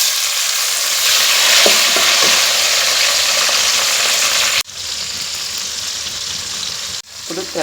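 Onions, tomato, garlic and curry leaves crackle and sizzle loudly in hot oil with spluttering mustard seeds and green chillies, a steady dense hiss broken by two sharp stirring clatters.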